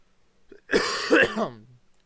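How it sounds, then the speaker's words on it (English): A single rough cough, or throat-clearing, from a man who has a lingering cough; one harsh burst that breaks into a couple of shorter voiced pulses and trails off, close and alone against near silence. "I still have this cough and it refuses to go away."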